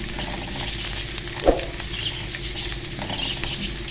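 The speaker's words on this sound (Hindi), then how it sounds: "और इसको हमने थोड़ा सा फ्राई करना है" Crushed garlic frying in a pan gives a steady soft sizzle and crackle, with one brief clack of a utensil against the pan partway through.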